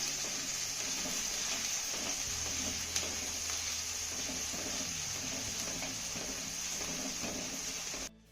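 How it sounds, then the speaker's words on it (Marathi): Finely chopped onion sautés in a pan for a Varhadi sesame dish, making a soft steady sizzle with light stirring scrapes and a faint low hum, then cutting off abruptly at the end. "आता हा कांदा ना आपल्याला हलक्या सोनेरी रंगावरती चांगला परतून घ्यायचा आहे"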